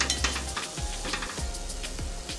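Chana dal and curry leaves sizzle and crackle steadily in hot oil, with a utensil stirring and scraping through the pan at a few points.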